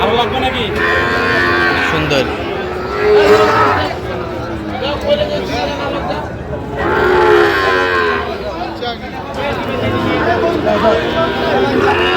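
Sahiwal cattle at a livestock market in Chattogram moo loudly in several long, drawn-out calls, rising over a constant murmur of crowd chatter and nearby talking.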